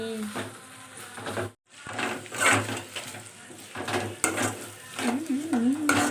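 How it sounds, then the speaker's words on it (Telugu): Chicken with ginger garlic paste is stirred in a pan for a spicy chicken fry, with close scraping and clinking of a utensil over soft sizzling in irregular strokes, briefly interrupted, with a voice faintly present. "అల్లం వెల్లుల్లి పేస్ట్ వేసుకొని పచ్చివాసన పోయే వరకు బాగా మిక్స్ చేసుకోవాలి"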